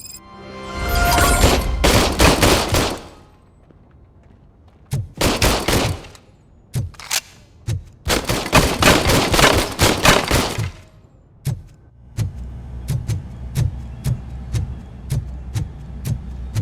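Loud automatic gunfire in the video game RoboCop: Rogue City, coming in long rapid bursts, then scattered single shots and shorter volleys, close and forceful with no talk over it.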